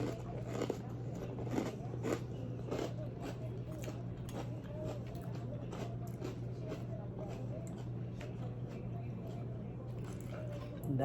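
Close, crunchy chewing while eating salmon and shrimp, with repeated bites and crisp crackles spread across eleven seconds over a low steady hum, no talking.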